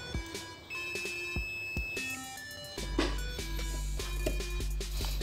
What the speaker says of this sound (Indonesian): Oke, mode bip itu mode berbunyi seperti ini ya.